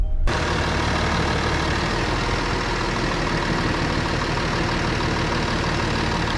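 A Kia Mohave engine runs steadily while the SUV sits raised on a workshop lift for an exhaust check, giving a continuous, fairly loud low rumble with a broadband hiss and no speech.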